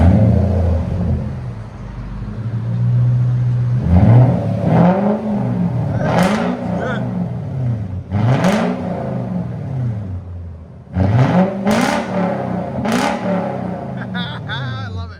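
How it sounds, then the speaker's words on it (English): A Lexus LS 430 V8 with a straight pipe exhaust revs hard several times, each loud blip rising and falling back to a deep burbling idle, with voices chatting between pulls. "Lexus LS 430 straight pipe"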